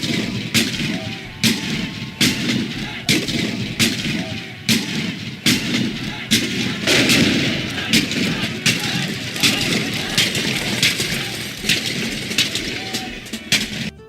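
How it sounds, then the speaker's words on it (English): Repeated sharp booming reports from cannon fired during a demonstration at historic Fort Selden, about a dozen loud blasts in fairly regular succession over a continuous outdoor rumble. "and even cannon firing demonstrations"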